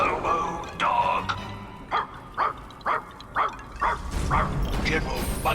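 A robot dog in the video game Puppeteer barks in a run of about seven evenly spaced, loud electronic yaps over game sound, with voices nearby.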